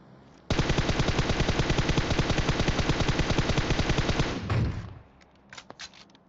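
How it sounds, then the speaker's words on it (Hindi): Video game automatic fire rips out in one long, rapid, evenly spaced burst lasting about four seconds, loud and close, then cuts off and leaves a few faint clicks and thuds, with no talking. "फालतू गोलियां चला रहा कोई बंदा भी नहीं था"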